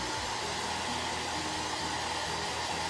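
A hair dryer blows steadily to dry chalk paste on a Chalk Couture craft project, a continuous close broadband whoosh with a low motor hum running unchanged throughout.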